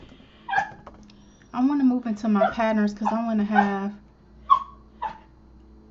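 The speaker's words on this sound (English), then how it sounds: "That's my dog." A dog whimpers in short, high whines, once near the start and twice more near the end, with a person talking steadily between them.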